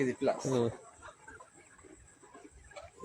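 Hens clucking on a poultry farm raising egg-laying chickens, scattered soft clucks and calls in the background while someone talks over them, brief and fairly faint.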